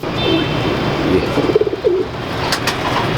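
A pigeon coos softly in a few low, rolling phrases over a background of steady outdoor noise.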